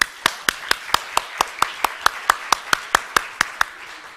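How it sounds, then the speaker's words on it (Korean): A single person claps for guests at an opening ceremony of a Korean diaspora youth convention, about eighteen sharp, evenly spaced claps close up against a quiet background. "다시 한번 참석해 주신 내빈분들에게 큰 박수 부탁드리겠습니다."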